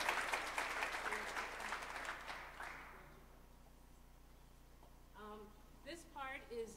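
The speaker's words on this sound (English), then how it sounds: "give them another round of applause." Audience applause at a women's event, a burst of clapping from a crowd lasting close to three seconds before it fades away into quiet, after which a voice begins speaking faintly.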